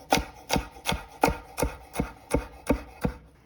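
A knife chops red pepper on a cutting board with about nine even, close, crisp strokes in a steady rhythm, spaced roughly a third of a second apart.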